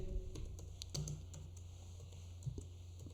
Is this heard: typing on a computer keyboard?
yes